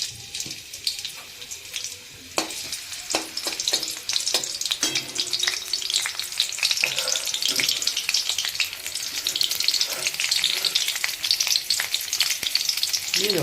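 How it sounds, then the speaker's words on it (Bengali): Green chillies frying in hot oil, a loud continuous crackling sizzle that swells after they drop into the pan, with occasional stirring clatter close by. "এই তেলেই এটাকে ফ্রাই করে নেব। তো বন্ধুরা তেলে প্রথমে দিয়ে দেবো কাঁচা লঙ্কা"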